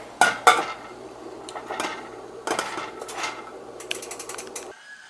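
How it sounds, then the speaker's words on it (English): A metal lid set back onto a cooking pot while Chinese drunken chicken is prepared, heard as a string of close clinks, scrapes and rattles of metal against metal, with no voices. "let's put the lid back on"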